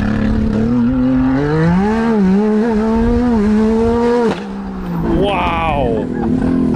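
A 350 hp Can-Am Maverick R with an Evo Stage 5 tune and launch control launches and accelerates hard: a loud, close engine roar climbs in pitch, dips briefly at a gear change, then surges upward again.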